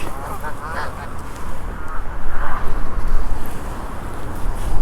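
A noisy flock of geese honks continuously nearby at a lake, calls overlapping and swelling louder toward the end, with outdoor background noise.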